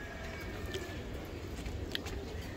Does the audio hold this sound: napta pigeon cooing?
yes